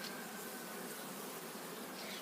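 Steady, dense buzzing from many honey bees at an open hive fills the whole stretch, continuous and fairly close with no talking.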